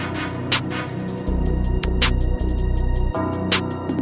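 A dark trap beat with percussion one-shots repeats in quick rhythmic hits over a deep sustained 808 bass that drops in and out, loud and upfront.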